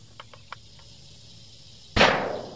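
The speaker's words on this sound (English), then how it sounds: "I'm gonna confirm zero with my other 20-inch rifle, my backup rifle" A single rifle shot from a 20-inch backup rifle, fired while confirming zero and chronographing ammunition; one sharp, loud report with a short decaying tail after a few faint clicks.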